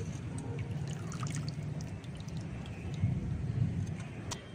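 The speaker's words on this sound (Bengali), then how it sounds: "চালটা থেকে জলটা ঝরিয়ে ঝরিয়ে আমি মিক্সিংয়ের মধ্যে দিয়ে দিচ্ছি" Water drains from soaked rice into a mixer jar, a soft, steady trickle and dribble heard close up against a low rumbling background, with a few faint drips.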